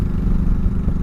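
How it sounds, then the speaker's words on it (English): A 2004 Honda Sabre 1100 motorcycle with a dual-pin V-twin engine runs close by, a loud, steady low rumble with a slightly uneven clattering beat and no talk. "it's a dual pin engine, so it sounds a little bit different than what your typical Harley would sound like with a single pin"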